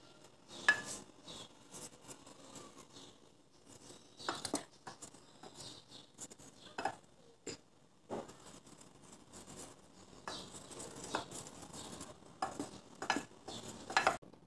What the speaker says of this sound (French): Vous allez mélanger la farine ainsi que avec le cacao.